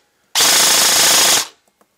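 A custom G&P M4 stubby airsoft rifle fires a single loud full-auto burst of about five rounds, a dense rapid rattle lasting just over a second, then a couple of faint clicks afterward.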